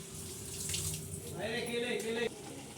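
Water runs from a kitchen tap while a Malvani-style chicken curry is being cooked, a steady close rush that swells partway through and then cuts back.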